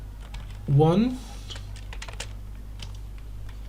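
Typing on a computer keyboard, with a steady scatter of light key clicks running throughout and a brief spoken voice near the start.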